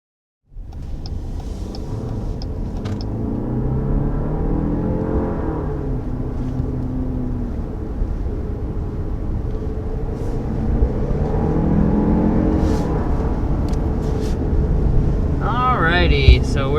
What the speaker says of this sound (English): let's go ahead and take this 4xe out on the road and see how it drives